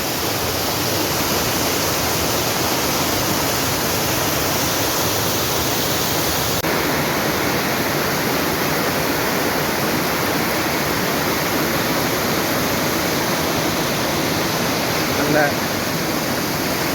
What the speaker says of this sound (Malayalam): വെള്ളച്ചാട്ടം ഇഷ്ടപ്പെടാത്തത് ആരും തന്നെ ഉണ്ടാവില്ല